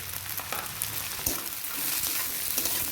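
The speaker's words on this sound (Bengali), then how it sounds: "দেখুন বন্ধুরা, কত সুন্দর ভাজা হয়ে গেছে।" Green peas frying in hot mustard oil for chowmein give a steady, dense sizzle with small crackles and stirring scrapes, heard close up and on its own.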